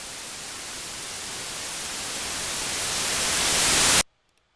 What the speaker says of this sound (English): that was just using volume and a quick little white noise generator